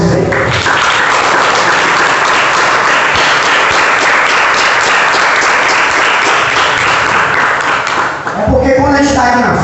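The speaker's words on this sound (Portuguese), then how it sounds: "Quem pode dar uma salva de palmas a Jesus aí?" A church congregation applauds for Jesus with loud, dense clapping that runs steadily for about eight seconds, then gives way to a voice speaking.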